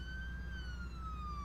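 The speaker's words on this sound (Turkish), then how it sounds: "Sireni aç, sireni." Ambulance siren from the emergency-driving game Flashing Lights, a single sustained wailing tone slowly falling in pitch, heard faintly and alone over a low engine drone.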